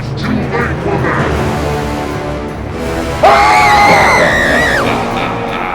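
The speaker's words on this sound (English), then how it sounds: "Back at the river, the people hear the screams." Screams of people falling into a pit in an audio drama, a loud burst of shrill overlapping yells breaking out midway over a dense background of crowd noise and murmuring voices.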